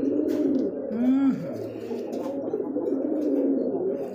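A pigeon of a large show breed coos close by in a farm loft, one rising-and-falling coo standing out over a steady murmur of other birds and faint background voices.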